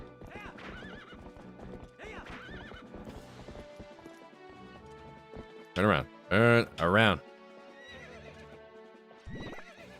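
A horse in a video game clip-clops along under a man's repeated spoken commands, then lets out three loud, close whinnies in a row, followed by a shorter snort near the end.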